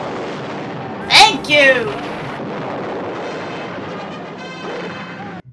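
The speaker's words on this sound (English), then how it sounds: "the army pounds down the fort with their styrofoam cannonballs" Cannon fire in a battle scene at a fort from a Davy Crockett film, the army firing styrofoam cannonballs. Two loud booming blasts come close together under steady background noise, and a voice speaks briefly.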